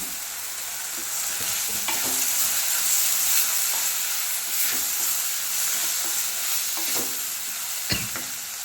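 Steady sizzle of onions, curry leaves and mint frying in a pan, with occasional spatula stirs and scrapes, close up and continuous.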